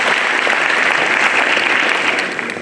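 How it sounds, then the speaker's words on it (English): Dense, steady applause from a large audience at a university gathering, loud and continuous, tapering slightly near the end. "Can we clap for him?"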